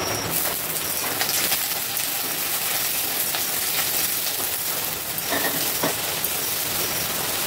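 Potatoes fry with green chillies in a pan of oil, making a loud, dense, continuous sizzle with occasional spits and stirring scrapes.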